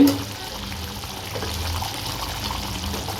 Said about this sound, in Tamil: இப்போ நல்லா கொதித்து வந்துட்டு